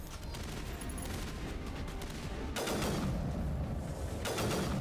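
Sniper rifle fire in the video game Mass Effect: rapid bursts of sharp shots in a dense clattering volley, then two loud broadband blasts in close succession, with no talking.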